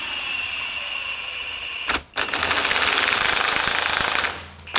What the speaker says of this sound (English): So with this compressor, we can use an impact gun.